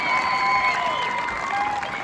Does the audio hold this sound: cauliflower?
no